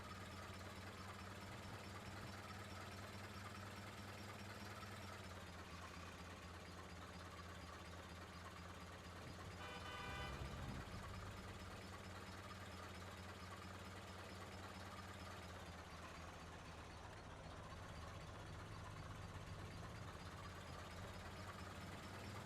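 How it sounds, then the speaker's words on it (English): A tractor engine idles loudly in a video game, a steady low throbbing drone close up, with a brief louder surge partway through and no talking. "This tractor's so loud"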